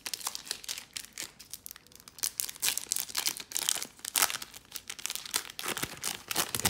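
A Warhammer WarCry trading card pack wrapper is torn open and crumpled, giving a continuous, close crinkling and tearing that carries on steadily throughout with no talk.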